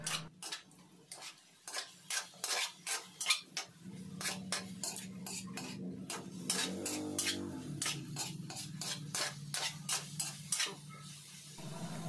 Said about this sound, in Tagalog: i-mix-mix lang natin yan para bumango din ang ating sibuyas at yung